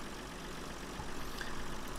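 Small 84 hp Renault tractor engine in Farming Simulator 2013, idling as a faint, steady low drone without changes in pitch or rhythm.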